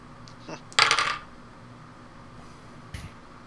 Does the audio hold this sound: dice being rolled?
yes